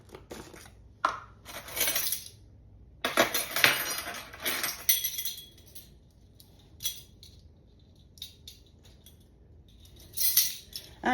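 Metal measuring spoons dipping into spice jars and tapping against containers while dry spices are portioned for pickled mushrooms, a scattered run of close clinks, scrapes and rattles with pauses between.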